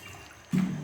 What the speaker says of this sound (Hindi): इस जीरे में हम क्या करते हैं कि एक में खतौली का पानी डाल देते हैं